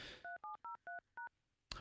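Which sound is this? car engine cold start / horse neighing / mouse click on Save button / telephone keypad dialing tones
telephone keypad dialing tones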